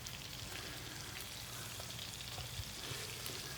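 Shallots and peppers fry in olive oil and a butter and white wine sauce, an even, close crackling sizzle with a faint low hum and no voices.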